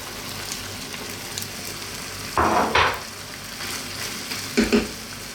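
Cooked pasta drops into a bell pepper cream sauce in a pan over low heat, a steady gentle sizzle broken by two short louder bursts of wet stirring and sloshing.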